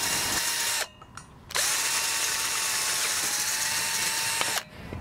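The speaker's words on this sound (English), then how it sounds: "and then to a large drill bit to make the large hole" A power drill with a large bit runs through metal with a loud steady whine, stopping briefly twice before spinning up again, close by and with no talking.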